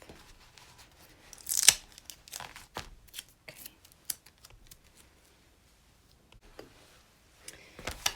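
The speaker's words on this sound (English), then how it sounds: "Get the rest of my tape off" Tape being peeled off a fabric in-the-hoop square flap purse, with a sharp ripping tear near the start followed by scattered softer peels, taps and small handling noises in a quiet room.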